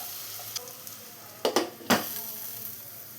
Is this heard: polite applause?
no